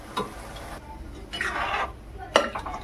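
Sprouted legume mix of peas, black-eyed peas, moth beans and mung beans tipped into a pan for usal and stirred, with a soft scrape and rattle of grains against the pan, then a brighter clatter of a spoon near the end.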